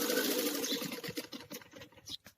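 A sewing machine runs briefly, its needle stitching a seam on a net boat-neck blouse with a quick, faint mechanical whir that slows and stops within a couple of seconds.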